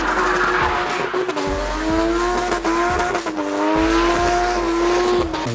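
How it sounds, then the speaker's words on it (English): Car engines roar while tires squeal in long, wavering screeches during burnouts, loud and continuous with pitch rising and falling. "watching people burning out their cars."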